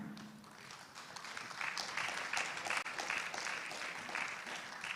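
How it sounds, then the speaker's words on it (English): Audience at a seminar on financing the transition in ASEAN applauds a speaker coming to the podium, a steady wash of clapping from a sizable crowd that swells after the first second and holds evenly throughout. "please give a round of applause for Mr."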